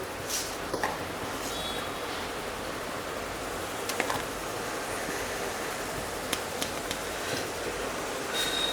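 Cumin seeds frying in hot oil give a steady, soft hiss, with a few sharp crackles and pops scattered through it, close by and at moderate level.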